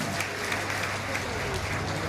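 Dense, steady applause from a large audience at an outdoor political rally in Begusarai, Bihar, where Home Minister Amit Shah is speaking; continuous, close-sounding clapping fills the whole moment with a low hum underneath.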